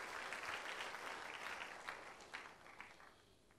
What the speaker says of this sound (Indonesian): Berikan tepuk tangannya buat Tuhan Yesus.